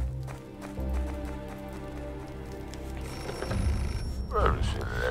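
Telephone ringing in the video game Beholder, a repeated bell tone running under game music and footsteps, with a voice speaking over it.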